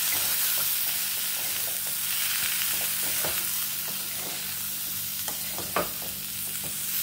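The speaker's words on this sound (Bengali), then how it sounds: "গ্যাসের ফ্লেমটা কমানোই আছে, একটু নেড়ে চেড়ে নেব।" Hog plum pickle seasoned with turmeric and Kashmiri chili powder fries in a pan over a low gas flame, a steady soft sizzle broken by occasional scraping strokes of a spoon stirring it.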